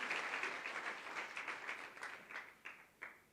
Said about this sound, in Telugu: అరే చప్పట్లు కొట్టి దేవుని మహిమపరచండి